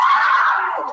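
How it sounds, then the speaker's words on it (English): A woman lets out a single sharp, high scream lasting under a second, close and loud, trailing off at the end. "Not her screaming."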